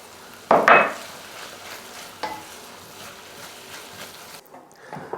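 Sage frying in a pan for a make-ahead Christmas side dish: a sharp burst of stirring and scraping, then a faint, steady sizzle with an occasional utensil clink, heard close with no talk.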